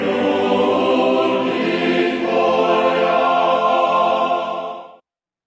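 An orchestra plays the Russian hymn passage from Tchaikovsky's 1812 Overture, with sustained, smooth chords that hold steady for about five seconds before cutting off, and no voices heard.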